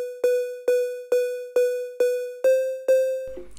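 Seven evenly spaced digital knock hits from a software synth patch, each a sharp tonal pluck with bright harmonic overtones that decays quickly, playing in a steady rhythm alone before a short noisy tail at the end.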